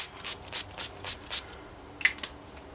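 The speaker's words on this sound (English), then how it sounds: "I'm just going to do a few spritzes of this on my face" A few quick spritzes of NYX Matte Finish Long Lasting Setting Spray onto a face: five short, crisp hissing bursts in an even rhythm, close and fairly quiet, followed by a couple of faint clicks.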